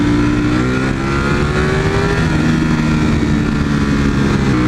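A V4 motorcycle engine screams at high revs in low gear while riding, a loud, sustained roar heard close up and steady throughout.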